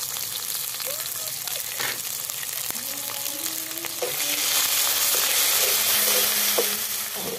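Ginger paste fries in ghee in a pan for a Bengali vegetarian dish, giving a continuous close sizzle with occasional stirring scrapes. The frying grows louder and hissier partway through.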